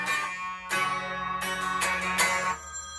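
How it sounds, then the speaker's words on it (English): A telephone rings in a home, a steady electronic tone with sustained harmonic bursts and brief gaps, fairly loud and alone with no voices. "Phone call."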